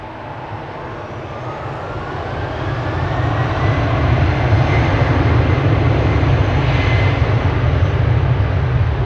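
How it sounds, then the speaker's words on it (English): Embraer E2 jet engines at Amsterdam Schiphol Airport swell from a moderate rumble into a loud, steady roar, with a faint whale-like whine rising through the noise. "Whale sounds are from the E2 Embraer that is preceding the United Triple."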